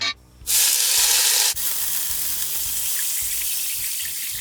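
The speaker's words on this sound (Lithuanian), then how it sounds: "Pilame vandenį." Water pours steadily into a soup pot of browned vegetables for Polish sauerkraut soup, a loud continuous splashing hiss that starts abruptly, then settles into a softer, even flow after a brief pause.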